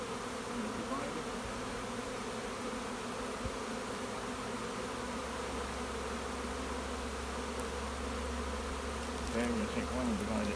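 Honeybees swarm around an open hive during a hive split, a dense continuous buzz close by with individual bees droning past now and then, steady and fairly quiet, with no talking.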